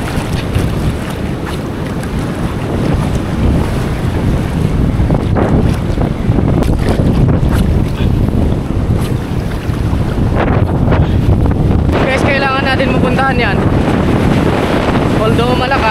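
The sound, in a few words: strong Amihan wind blowing at sea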